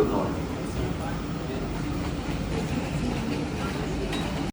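A train in Germany, a continuous low rumbling roll with faint rattling that stays steady and close throughout.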